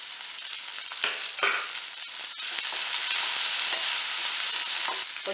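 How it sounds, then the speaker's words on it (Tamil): Mustard seeds pop and splutter in hot oil while onion, green chillies and curry leaves fry and get stirred, a loud continuous sizzle with crackling bursts close up, for a radish raita tempering. "இப்போ நல்லா கடுகு பொரிஞ்சிருச்சு"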